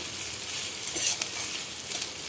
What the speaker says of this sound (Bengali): রসুন, পেঁয়াজ কুচি আর লঙ্কা দিয়ে আমি ভাজছি